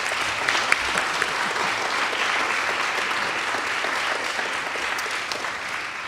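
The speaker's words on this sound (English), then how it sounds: "Can we give them a big round of applause?" An audience at a symposium panel gives a big round of applause, a full, steady roar of many hands clapping that stays loud and even for several seconds.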